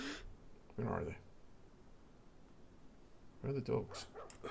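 Dogs bark in the DayZ video game in two short bursts, one near the start and a louder double round later, each standing out over a quiet, low background.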